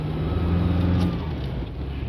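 Mk4 VW Golf turbo diesel, front-wheel drive, accelerating hard on a wet road in the rain with wheelspin; a steady loud engine drone with low rumble holds throughout, close and continuous, no talk.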